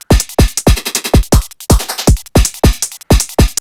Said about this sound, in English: So the whole drums group together sounds like this in the first part of the track.